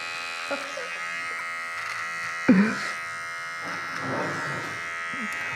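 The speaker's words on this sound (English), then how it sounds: "let's go clipper over comb." Electric hair clippers buzz steadily during a clipper-over-comb cut on a low fade haircut, a close continuous hum with small changes in tone as the blade moves through hair, while someone talks quietly over it.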